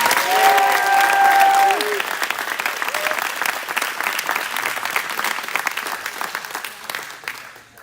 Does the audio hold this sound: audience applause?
yes